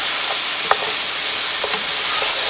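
Minced garlic sizzling loudly in a hot pan, a constant bright hiss with a few soft scrapes of a spoon stirring through it, close and steady.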